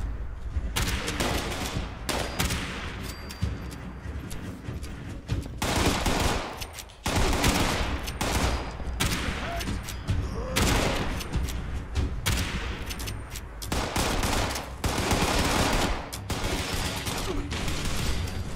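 Dense video game combat in Fallout 76, with gunfire and plasma grenades going off: loud, continuous volleys of rapid shots and blasts with brief gaps, overlapping for the whole stretch.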